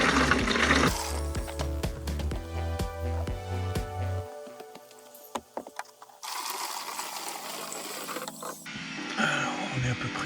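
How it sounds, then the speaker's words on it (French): A cheap water pump set by a low stream churns with a rhythmic mechanical chugging, then switches to a steady rushing of water with clicks and knocks, fairly close and continuous throughout. "et on viendra brancher la pompe dessus. Et on va faire le premier test"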